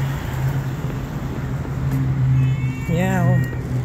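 A cat gives a single wavering meow near the end, rising and falling briefly over constant street traffic hum and engine noise in a busy city road.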